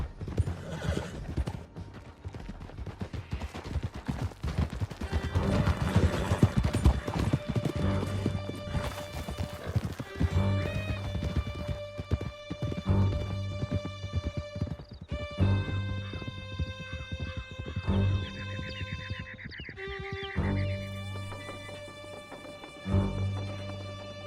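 Horses galloping in the video game Red Dead Redemption 2, a busy run of clip-clopping hooves at close range under a sustained orchestral music score that swells toward the end, with no talking.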